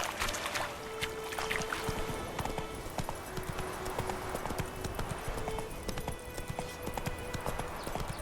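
Roach, the horse in The Witcher 3 video game, gallops at a steady clip-clop rhythm of hoofbeats, close and continuous for about eight seconds, with faint ambient game sounds and occasional tonal background elements.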